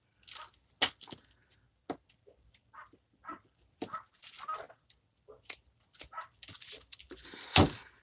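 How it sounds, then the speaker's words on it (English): Dogs bark intermittently indoors, scattered sharp barks at varying distance, mixed with crafting clicks and rustles of paper and fabric. "I'm sorry about the dogs, guys."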